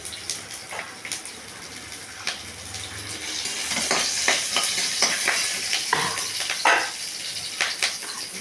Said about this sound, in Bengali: আদা আর কাঁচা লঙ্কা নাড়াচাড়া করবে